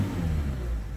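A 2018 Mercedes-Benz Citan van engine, diagnosed for a non-start fault, revs up under acceleration. It is a steady, close, low rumbling drone with no talk.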